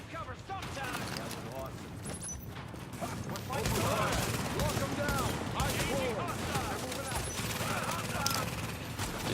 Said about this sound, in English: I got my turret there